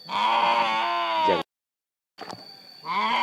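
Sheep bleating in a rural Indonesian village, two long loud harmonic bleats separated by a second of silence, the second followed by a brief clatter before the call resumes.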